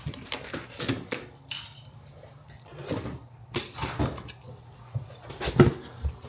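Cardboard box holding a Pulsar 4000W generator being cut open, a series of short scraping slices and rustles spread across several seconds at close range with no talk.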